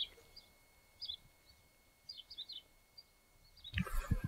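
A bird sings outdoors off to one side, its faint, scattered high chirps coming in short bursts over a quiet background, before a louder rustling noise cuts in at the end.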